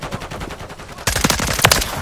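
Rapid automatic gunfire in a Call of Duty: Modern Warfare 3 multiplayer match on the Rust map, first as quicker distant bursts, then louder, denser close-range shots crackling in fast succession.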